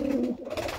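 Kalanka pigeons coo in a short burst, a soft throaty rolling call heard close and fairly loud over a brief stretch with no talk.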